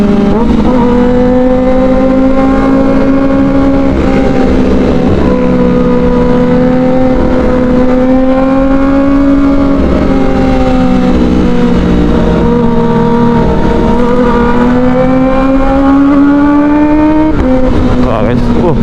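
Kawasaki ZX25R motorcycle fitted with an Arrow Pro Race exhaust, its engine holding a loud, steady high-pitched drone with slight pitch swells and dips, ending in a brief rev change near the end.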